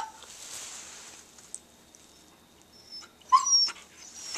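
A pet dog gives soft, thin whimpers and a short burst of higher yips and barks near the end, close by in an otherwise quiet room.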